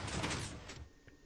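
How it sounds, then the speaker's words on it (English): A sliding door in a video game rumbles shut after a button press, a loud heavy slide that fades within about a second, followed by a faint click. "push the button to close the door"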